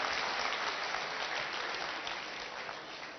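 Applause from an audience at a medical talk, a steady wash of many hands clapping at moderate distance, even and sustained throughout.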